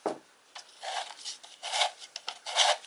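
Recoil starter spring of a Lawn Boy Dura Force two-stroke mower being wound counterclockwise by hand, heard as short close rubbing, rasping strokes in an irregular rhythm, with no talking.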